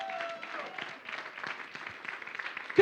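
An audience in a church breaks into applause, a moderate spread of clapping that continues evenly for a few seconds, with a voice partly audible beneath it.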